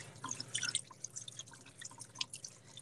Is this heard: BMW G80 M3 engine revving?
no